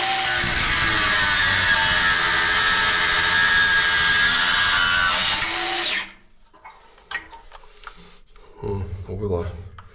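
An angle grinder runs loud and continuous for about six seconds while someone on a ladder cuts off metal hoops, then cuts out abruptly, leaving scattered handling clatter and a brief voice.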